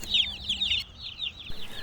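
Newly arrived meat chicks peep in rapid, high, overlapping chirps, close by and continuous with no one talking.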